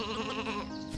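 A sheep in the video game Isle of Ewe lets out one sustained, wavering bleat that fills the whole second, loud and close, with no talking over it.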